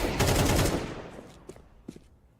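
Rapid pistol fire from Desert Eagles and a P250 or P2000 in a Counter-Strike 2 esports match: a dense, loud burst of overlapping shots for under a second, then a few scattered, fainter single cracks.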